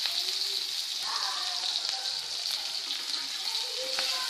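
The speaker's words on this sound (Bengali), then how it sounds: "জিরে ফোড়ন, আর সামান্য একটু পেঁয়াজ দেবো।" Cumin seeds and a little onion fry in oil, making a steady close sizzle with light crackles and pops throughout.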